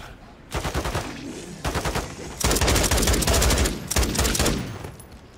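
Automatic gunfire in Call of Duty: Modern Warfare 3 Zombies, several rapid bursts of machine-gun fire separated by short gaps, the longest burst in the middle, loud and close.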